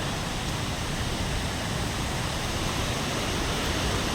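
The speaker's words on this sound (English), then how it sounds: "See the waterfall. Look at the water that's coming, gushing through." A waterfall near the Sinhalese town of Dedugala, a loud, dense, steady roar of gushing water filling the whole clip without pause or change, no voices heard.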